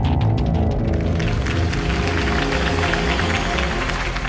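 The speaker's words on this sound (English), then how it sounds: "If only Mr. Wayne, my campaign's largest backer, could have heard that applause" Crowd applauding after a campaign speech by Harvey Dent in a Batman game, a dense, loud, continuous roar of clapping mixed with music or crowd murmur throughout.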